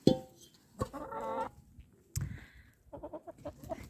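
Chickens cluck in short bursts with a rooster's call among them, fairly close, plus a brief low thump partway through.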